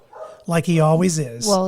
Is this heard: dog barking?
yes